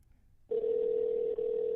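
A steady telephone tone on an outgoing call starts after a half-second of near silence and holds at an even level, with one brief dip, and no talk over it.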